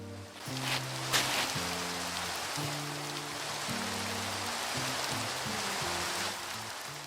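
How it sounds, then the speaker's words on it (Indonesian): Steady rain patters as a soft, even hiss in Minecraft, with low background music notes playing underneath throughout. "Tumben-tumbenan nih hujan."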